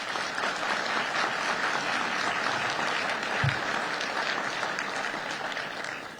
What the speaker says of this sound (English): So I'd like to give you an opportunity to give them a round of applause.